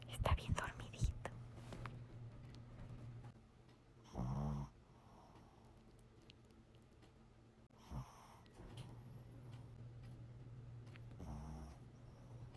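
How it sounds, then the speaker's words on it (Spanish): A dog asleep on a couch gives soft, quiet snores and snorts, a few separate rasping breaths spaced several seconds apart over low room noise, with whispered talk nearby. "Está roncando. Pero estaba roncando más fuerte."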